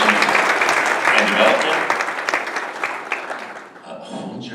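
An audience at an awards reception claps steadily, a full warm patter of many hands that thins and fades toward the end.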